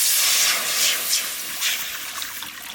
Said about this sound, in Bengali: ডাল চাপাবো, কড়াইতে জল দিয়ে দিচ্ছি